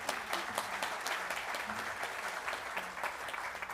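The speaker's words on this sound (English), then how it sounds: "They deserve a round of applause." A hall full of people claps in sustained, dense applause at an awards ceremony, a steady even wash of hands with no break.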